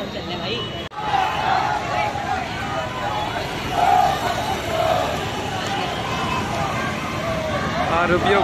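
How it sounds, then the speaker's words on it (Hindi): A large crowd at a student rally in Haldwani, a dense continuous babble of many voices and chatter outdoors with traffic noise mixed in, loud and steady throughout. "और आप देख सकते हैं कितनी भीड़ है यहाँ पे"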